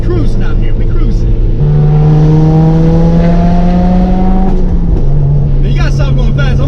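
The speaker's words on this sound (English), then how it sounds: "This sound, this Subaru sound, listen to that." A Subaru WRX/STI engine drones steadily while cruising, its low tone shifting in pitch a couple of times, loud and close from inside the car.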